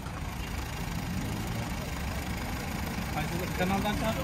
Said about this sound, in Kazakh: Көрдүңүздөр, мотордун жүрүшү дагы аябай жакшы.